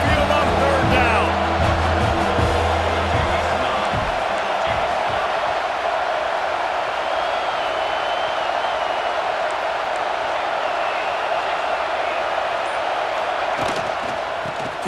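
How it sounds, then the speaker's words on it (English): A home Crimson Tide crowd on third down at Saban Field in EA Sports College Football 26 makes a loud, continuous stadium roar that holds steady and eases slightly toward the end, with voices mixed in. "The Tide crowd rolling noise down onto Saban Field on 3rd down"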